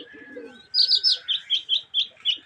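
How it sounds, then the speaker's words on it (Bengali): Pigeons take flight together after the afternoon call to prayer, giving a steady series of eight or so sharp, evenly spaced chirping calls over a continuous high whistle-like tone, fairly close and clear with no talking. "আসর আজানের পরে কবুতর ওড়া শুরু করলো।"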